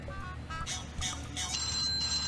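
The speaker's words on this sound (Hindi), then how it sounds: "छाया का फोन" A phone ringtone plays in short bright electronic tones, moderately faint, with a repeating melodic pattern across about two seconds.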